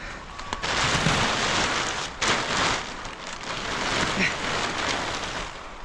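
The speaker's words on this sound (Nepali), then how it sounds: "असिना आयो, असिना।" Hail pelting down outdoors near strawberry plants, a dense steady clatter of ice pellets on surfaces, loud and continuous throughout with a few sharper impacts.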